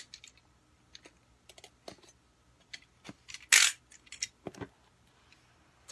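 Opening the box of a new Huawei Y9s smartphone gives soft, scattered clicks, taps and light scrapes of cardboard and packaging, with one brief louder rustle in the middle, close and fairly quiet.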